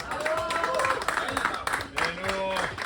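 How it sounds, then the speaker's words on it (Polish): Crowd at the winter Poland Bike Marathon award ceremony in Otwock applauding young podium finishers, a dense wash of clapping running throughout with an announcer talking over it. "No i brawa proszę Państwa."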